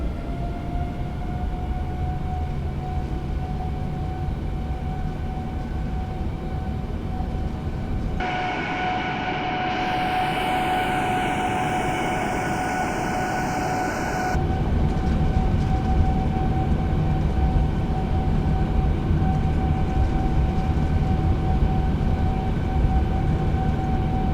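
Airliner in a flight simulator game spooling up to TOGA thrust for a long takeoff roll, a steady loud engine roar with tonal whine that shifts partway through and swells louder toward the end, no talking.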